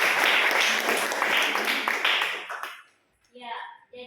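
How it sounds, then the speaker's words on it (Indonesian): Students in a classroom clap for a classmate after a presentation, a brisk round of applause lasting a few seconds before stopping abruptly, followed by a brief voice. "beri tepuk tangan untuk."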